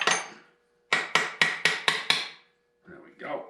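Six sharp hammer blows in quick succession break a gasket free on the rear axle flange of a Farmall Cub tractor, close and loud, followed by a brief pause and some faint shuffling.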